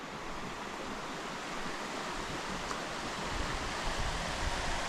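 Continuous rushing water roars steadily, a full, close river flow beside the Camino Francés path in Spain, with no voices and little change in level throughout.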